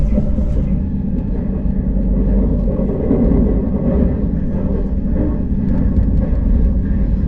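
A KTX high-speed train running at speed through a city tunnel section in Daegu, heard from inside as a continuous deep rumble and roar with steady low-pitched rolling noise and no talk.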